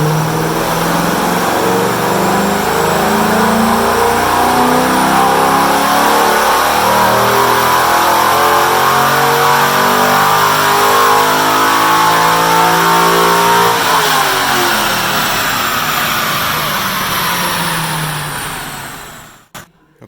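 Car engine running a full-throttle pull on a dyno during a camshaft size test, revving loudly and climbing steadily in pitch for about fifteen seconds before winding down and cutting off.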